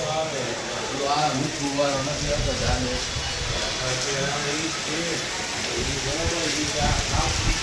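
Heavy rain pours steadily on surfaces during a monsoon downpour, a loud, dense hiss that never lets up, while someone talks over it throughout.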